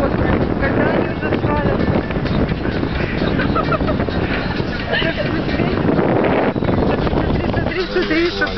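Strong storm wind roars continuously and loudly against the microphone during a ride through a squall while chasing a tornado, with people talking over the buffeting.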